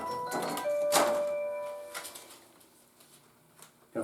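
A phone rings with an incoming call during a paint job, a brief bright electronic tone with sustained pitched notes that rings out and fades over a few seconds, fairly close, with faint clatter after.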